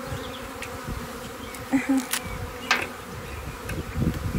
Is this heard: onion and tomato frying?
no